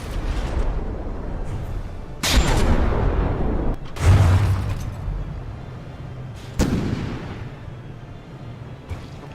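Naval guns boom from battling frigates in From The Depths, a tournament duel between the Papel and the Kolibri: several heavy, sharp blasts arrive spaced a couple of seconds apart, each trailing off into a rumbling roar.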